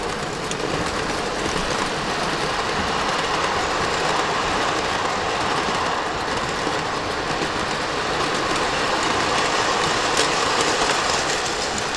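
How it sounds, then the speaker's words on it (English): A Lionel model train rolls past on a layout, a steady rumbling clatter of wheels and motor that holds at an even level for the whole stretch, with no talking. "Here comes the train."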